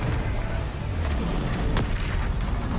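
A blasting curse from Hogwarts Legacy goes off as a deep, sustained rumbling boom with a few sharper cracks layered over a dense low roar, loud and steady throughout.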